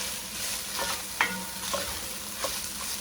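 Italian sausage and cauliflower florets sizzle steadily in a hot pan, a close, continuous frying hiss broken by a few sharp clicks of stirring, with no talking.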